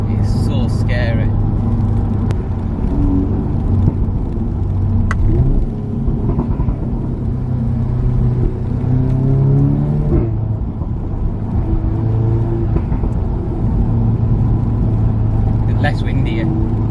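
Audi S3 8V facelift fitted with a Milltek non-resonated catback exhaust, accelerating with a loud, sustained engine drone whose pitch climbs and shifts through gear changes, close up, with a few crackly pops near the start and end.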